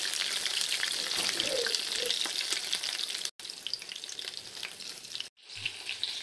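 Soya nuggets frying in hot oil in a home kitchen, a close, steady crackling sizzle with occasional stirring scrapes and two brief dropouts.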